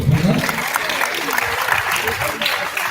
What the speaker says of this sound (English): Can you have a round of applause again?